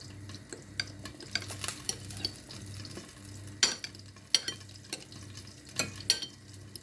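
Chicken liver and onion sizzle quietly in a pan while a utensil stirs and scrapes, with several sharper clinks against the pan, no talking.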